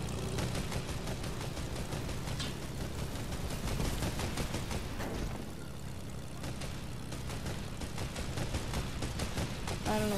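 Fortnite gunfire rattles in near-continuous rapid shots, steady and moderately loud, mixed with engine-like rumble from the game.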